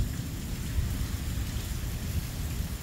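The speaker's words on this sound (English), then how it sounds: "that was some extreme wind and blinding rain" Heavy rain pours steadily during a storm with strong wind, a dense, continuous rushing hiss, moderately loud with no voices.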